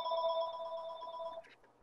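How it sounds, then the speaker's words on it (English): A telephone rings inside a house in one sustained electronic trill lasting over a second, faint and somewhat distant, then cuts off to quiet room noise. "Just as the phone started to ring."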